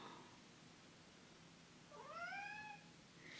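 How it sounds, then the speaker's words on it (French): A house cat gives one clear, drawn-out meow while crying to be let out, faint and fairly distant against a quiet room. "il y a mon chat qui pleure pour sortir"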